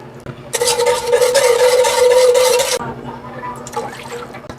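Water pours into a pot for black gulaman jelly, a bright, rushing splash that starts abruptly, runs steadily for about two seconds and cuts off, followed by faint clinks and light movement.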